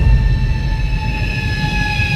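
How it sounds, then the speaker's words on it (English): Lastochka intercity train travelling from Kursk to Oryol, heard from inside as a loud steady low rumble with sustained whining tones running throughout, no voices. "The journey to Oryol by train takes only about an hour and a half from Kursk."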